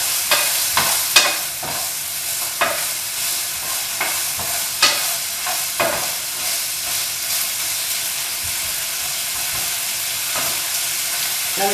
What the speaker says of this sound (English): And I'm going to stir up my bacon stuff again.